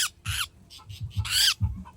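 A captured bird, newly caught and unringed, squawks in loud, harsh bursts close by, three or four sharp calls over about two seconds with handling noise beneath.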